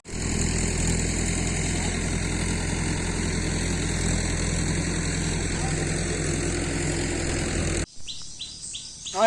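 A tractor engine drones steadily in a rural setting, a continuous humming note with birds chirping over it, before the sound cuts off sharply near the end.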